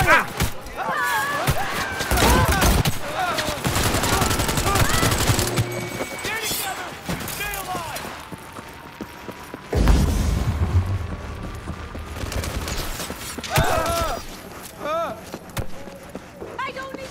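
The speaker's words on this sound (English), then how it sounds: "They're opening fire!" Gunfire in the video game Cyberpunk 2077, bursts of rapid shots and booms in a loud firefight, mixed with game music and shouted voices throughout.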